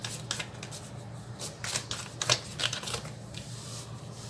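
Tarot cards being handled and drawn from a deck during a reading, giving soft repeated shuffling and flicking rustles, fairly quiet and close, with no talk over them.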